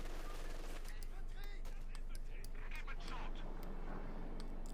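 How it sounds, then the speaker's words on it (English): MG42 machine gun fire in Company of Heroes 2 rattles in quick bursts beneath a commentator talking over it, with scattered other battle sounds at moderate distance. "halted here by the MG42"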